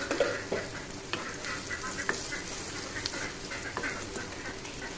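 Spices are scraped and stirred into onions frying in a pan, with repeated spatula strokes over a continuous sizzle, close and moderately loud.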